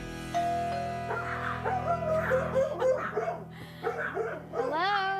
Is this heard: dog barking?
yes